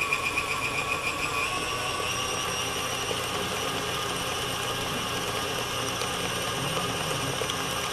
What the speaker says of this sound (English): You may notice I got a Kitchenaid Mixer here.